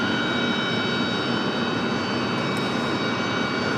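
A Frontier Airlines Airbus A321neo in Jaguar livery at Raleigh-Durham airport gives a steady, loud, broadband jet engine roar that holds constant throughout with no talking.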